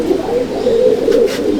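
Pigeons in a loft keep up a loud, continuous low cooing drone, with a couple of brief brighter noises near the end.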